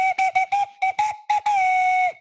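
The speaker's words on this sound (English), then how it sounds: "Broken whistle." A hand whistle blown in a series of short, sharp bursts, then one long sustained blast, loud and close with no talking, as a broken whistle finally starts working.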